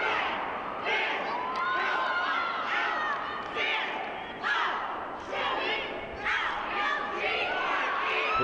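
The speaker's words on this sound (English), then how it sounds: "Here we go with a crowd cheer, spelling out their mascot." At a high school coed competitive cheerleading state meet, a cheer squad leads the crowd in a spelled-out chant for the mascot, rhythmic shouted syllables echoing through a big arena amid crowd noise and thumps.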